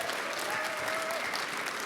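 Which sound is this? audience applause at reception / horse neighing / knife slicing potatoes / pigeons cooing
audience applause at reception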